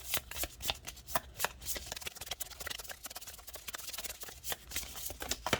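Oracle cards are shuffled overhand in a fast, continuous flurry of crisp papery flicks and slaps, close and fairly loud, with no talking.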